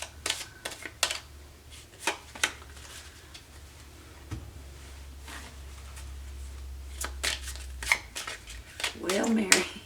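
Tarot cards being shuffled in repeated crisp riffles and flutters, close by, with a low steady hum underneath and a brief clatter at the end.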